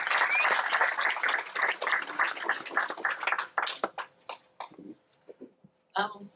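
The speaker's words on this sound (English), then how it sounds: "please, can we clap for these young people?" An audience at a conference session claps for a group of young people, a full burst of applause that thins out into scattered claps and dies away, with a voice briefly heard at the end.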